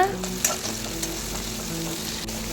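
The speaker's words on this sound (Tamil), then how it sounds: "கடாய் போடுங்க பச்சை மிளகாய் வெங்காயம் கருப்பில் கலக்கிக்கோங்க" Chopped green chilies and onions fry in a kadai as they are stirred, a steady close hiss of hot oil with a few faint scrapes and taps, no voices.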